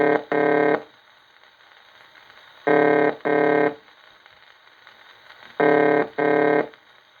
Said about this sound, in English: ringing tone,